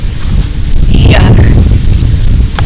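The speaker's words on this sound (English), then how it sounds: "Gusty winds are picking up." Gusty wind outdoors buffeting the microphone, a loud rough rumble with a brief rustling swell in the middle of the short burst.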